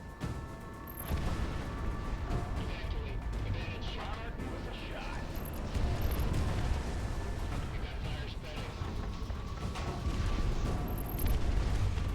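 Missile explosions and heavy booms in the Project Wingman jet combat game, a rumbling low-end barrage rolling on under continuous game noise, with repeated impacts swelling at intervals, moderately quiet overall.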